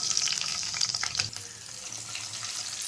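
Green chillies and curry leaves fry in plenty of hot oil with bay leaves for a village-style mutton curry, a steady soft hiss and crackle with a light stirring scrape partway through.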